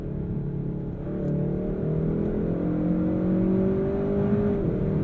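A 2022 Kia K5 GT pulls hard under acceleration, its engine note climbing steadily toward 6,000 RPM before the dual-clutch gearbox shifts up and the pitch drops and builds again, heard from inside the cabin with no talk.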